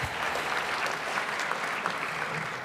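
An audience at a brass band festival results announcement claps, a dense, even applause that holds steady throughout, with no voices over it.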